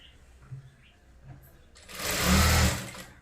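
A sewing machine stitching a blouse seam: after quiet handling noises, the motor whirs up into a close, steady rapid stitching run for about a second and a half, then trails off.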